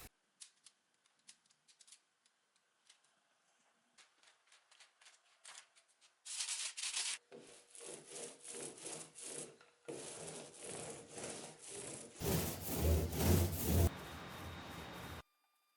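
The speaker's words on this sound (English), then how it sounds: "once the primer dried, I gave it a light sanding and the top turned out perfectly smooth and even" Light hand sanding of a primed laminate dresser top: faint scattered scrapes at first, then a steady run of close, loud rasping strokes in a rapid back-and-forth rhythm with no talking.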